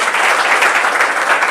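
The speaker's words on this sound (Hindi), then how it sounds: "एक बार जोरदार ताली बजाइए बच्चे" Loud, steady applause from an audience at a school prize distribution ceremony for Bihar board matric exam achievers, dense clapping sustained evenly throughout with no voices.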